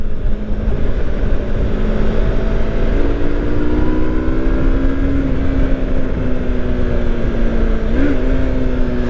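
A Yamaha R25 250cc motorcycle engine revs loud and close, its pitch rising in stages before a quick blip near the end, alone with no talk.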